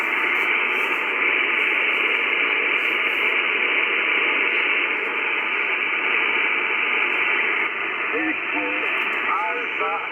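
A weak voice signal on the 10 m amateur band fades in and out under heavy hissing static, received on TS-830S and IC-7300 transceivers with a 5/8-wave vertical antenna. The signal is continuous, and garbled speech and faint warbling tones surface near the end.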